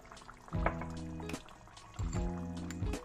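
Water trickles into fermented dosa batter and is stirred in, with two bursts of wet sloshing and mixing about a second apart, close up, and faint background sound between them.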